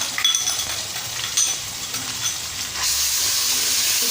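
Ginger garlic paste hitting a hot pan of browned onions gives a loud, broad sizzling hiss with faint clinks, swelling stronger and steadier toward the end.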